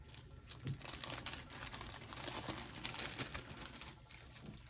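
Small plastic cello bags crinkle continuously as Etsy orders of mini scratch-off cards are packed with cards and stickers, a close, busy rustle with a few light taps mixed in.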